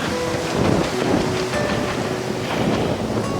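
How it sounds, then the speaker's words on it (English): Strong wind sweeps across an open valley and buffets the microphone in a continuous, loud rushing roar that swells and dips, with no one speaking. "But lots of wind today."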